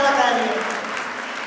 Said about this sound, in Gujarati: આપણે તેમને ખૂબ તાળીઓથી વધાવીએ અને એમનો ઉત્સાહ વધારીએ.